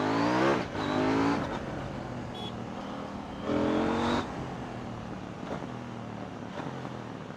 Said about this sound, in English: when the motorcycle downshift, the exhaust just rumbles